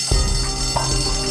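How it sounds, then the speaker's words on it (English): A fire alarm blares in a building during a hostage situation, a loud, continuous droning tone that fills the short stretch without a break. "That's the fire alarm."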